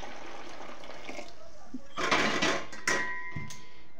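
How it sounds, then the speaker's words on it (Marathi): Just-boiled hot water is poured from a pot over soaking sago pearls in a couple of short splashing pours, set against a quiet background. "जेवढा साबुदाणा बुडेल तेवढंच पाणी घालायचं"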